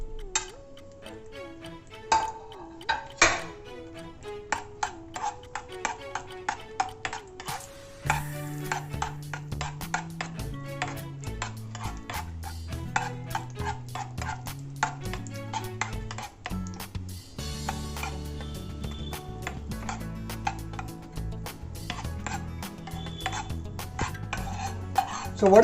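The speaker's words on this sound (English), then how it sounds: "add the 10 to 12 pieces of raisins and fry them until they are brown in color" A spoon clinks and scrapes against a pan as raisins fry in ghee, with irregular metallic taps and pings over a soft sizzle, close and fairly quiet, sometimes rapid and sometimes sparse.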